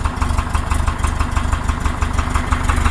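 Rebuilt carburetors on the engine of a 1966 Porsche 912 keep it running steadily at close range, a loud, even, throbbing idle with a pulsing low rumble and no talking.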